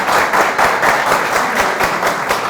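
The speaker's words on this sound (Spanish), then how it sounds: "recibámonos con un fuerte aplauso" Live audience at a university teachers' event greets the hosts with loud, steady applause, dense clapping filling the whole moment without pause or talk.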